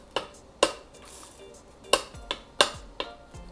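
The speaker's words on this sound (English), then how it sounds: "We're just gonna go ahead and gently mix this in" A few sparse clinks and taps of a utensil against a bowl as sprinkles are gently folded into cupcake batter, with quiet pauses between strikes.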